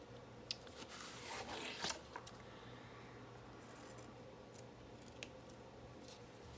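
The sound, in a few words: scissors trimming a journal page corner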